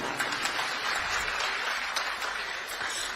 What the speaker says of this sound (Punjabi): ਇੱਕ ਵਾਰੀ ਆਪਣੇ ਆਪ ਲਈ ਜ਼ੋਰਦਾਰ ਤਾੜੀਆਂ ਮਾਰ ਲਓ